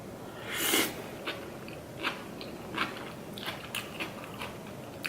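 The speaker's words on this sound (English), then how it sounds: "What I love about this pickled radish is you can like hear yourself crunching it so hard." Pickled radish crunched hard during a Korean food meal of bibimguksu and bulgogi, with one loud close bite followed by several softer, evenly spaced chewing crunches and no talk.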